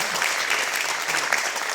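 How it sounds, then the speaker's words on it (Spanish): A church congregation claps hands in praise during a Spanish-language worship service, a dense, steady burst of applause. "Dele palmas al Señor."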